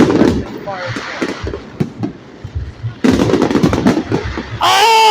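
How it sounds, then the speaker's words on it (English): Explosions from a Christmas fireworks show crack and boom in repeated bursts, some sharp and some rumbling, with a dense cluster near the end. People talk excitedly throughout. "It's a Christmas fireworks show."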